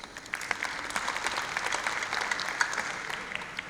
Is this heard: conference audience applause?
yes